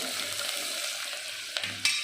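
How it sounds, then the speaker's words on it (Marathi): Half a spoon of turmeric stirred into chicken in a pot, giving soft scraping and stirring sounds over a faint sizzle, with a sharper clink near the end. "आता यामध्ये आपण अर्धा चमचा हळद घालतोय आणि हे मिक्स करून घेऊ चांगलं"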